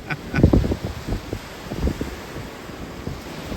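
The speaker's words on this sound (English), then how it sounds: "Facing directly into the wind right now." Wind buffeting a microphone on Copano Bay, low rumbling gusts that swell strongly early on and then ease to a softer, steady rush.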